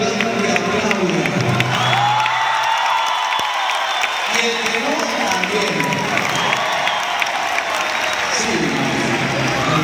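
A concert crowd at a palenque show during the Feria de Puebla claps and cheers in a steady wash of noise, with a voice on a microphone speaking over it.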